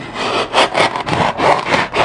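A Kershaw Knockout knife blade saws through material near the edge in five rhythmic back-and-forth strokes, a close, steady rasping scrape with no talk.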